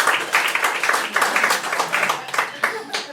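A small crowd at a live storytelling show in LA claps in a loose, uneven burst, individual hand claps audible in a rough rhythm, fairly close and moderately loud.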